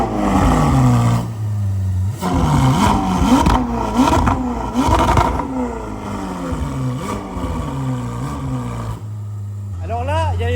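A Ferrari 488 Spider engine runs with its valves closed and is revved in repeated short throttle blips that rise and fall, loud and close, while people talk over it.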